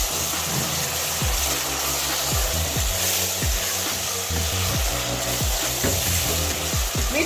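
Tomatoes frying in a pan with well-browned onions give a loud, steady sizzle, with repeated scraping stirs cutting through the hiss.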